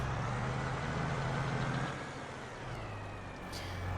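A tractor engine in Farming Simulator 22 idles with a low, even rumble that drops slightly in level midway. No one speaks.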